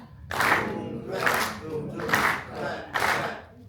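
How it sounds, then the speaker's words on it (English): Led by drummer Shirazette Tinnin at The Wright, an audience beats out a drum pattern with four strong, evenly spaced bursts of group clapping and softer crowd noise in the gaps. "So you got doom, clap, doom, doom, clap, clap."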